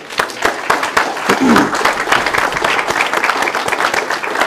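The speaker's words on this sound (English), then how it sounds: "can we please have a round of applause for the hosts here who brought us here and let us use this?" An audience applauds the hosts at a talk on Communist Core education, a sustained, dense roar of many hands clapping that swells and holds steady throughout.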